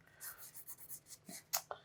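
Pencil scratching across paper in short repeated strokes, close and fairly quiet, with a few sharper marks near the end.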